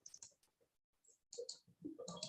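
Computer mouse clicks come in short, quiet bursts during spreadsheet work, spaced irregularly over a faint room background.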